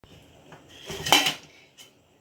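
A metal lid set onto a pot of steaming kozhukattai, one close clattering clank rising and fading within a second or so, alone.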